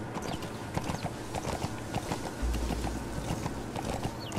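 Armored horse in Metal Gear Solid V trotting with steady clip-clop hoofbeats, close and fairly loud, a continuous run of hoof strikes over game ambience.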